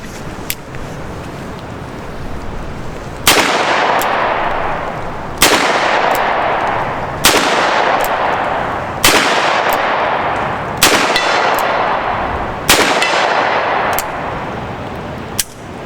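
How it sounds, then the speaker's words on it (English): Seven loud gunshots fired at a steel target 53 yards away, each sharp crack trailing off into an outdoor echo, spaced roughly two seconds apart and heard alone. "I just hit steel at 53 yards with this"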